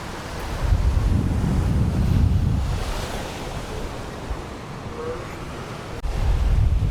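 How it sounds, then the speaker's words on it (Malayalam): At Kanyakumari's Kovalam beach, strong wind buffets the microphone as ocean waves roll and crash in a continuous roar, surging loud near the start and again at the end. "എപ്പോഴും നല്ല കാറ്റുള്ള ഒരു സ്ഥലം കൂടിയാണ് ഈ കന്യാകുമാരി എന്ന് പറയുന്നത്"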